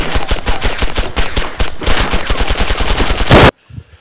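Rapid automatic gunfire in the video game Breaking Point: a loud, close burst of dense repeated shots with a short pause, continuing for about three and a half seconds before cutting off abruptly into near silence.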